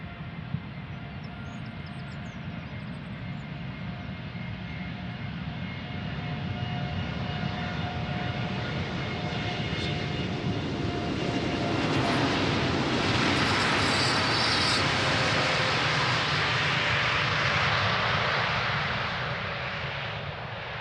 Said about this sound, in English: So this is the Air Europa Dreamliner to Madrid. Short flight. Let's see how long the takeoff is going to be.